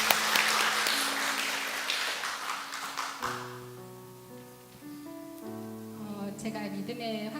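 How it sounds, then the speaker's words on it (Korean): Brief burst of congregational clapping during a Sunday morning church service, dense at first and fading after about three seconds as a sustained organ or keyboard tone carries on alone. "박수 한번 하시죠"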